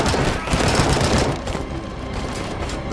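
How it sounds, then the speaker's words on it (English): Rapid automatic gunfire from an AK-47 in the game Robocop: Rogue City, loud and dense at first, then easing into a slightly lower, continuing rattle of shots. "is that AK-47?"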